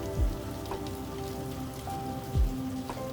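Steady rain falls outside a barn at a stable, a soft continuous patter with a few louder drops. Low rumbles come and go underneath, and no voices are heard.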